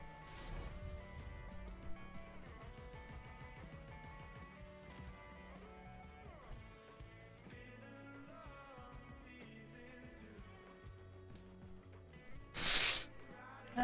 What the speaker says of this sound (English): I'm so sniffly.